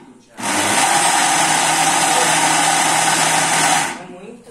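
An electric hand mixer whirs steadily and loudly for about three and a half seconds, lightly beating cornmeal cake batter after baking powder goes in, then cuts off.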